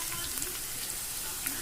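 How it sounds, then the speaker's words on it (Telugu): Spices temper in hot oil in a pan for a Telugu brinjal bajji dish, giving a steady, dense sizzle with small crackling pops throughout. "పోపు కానీ బాగా వేగింది"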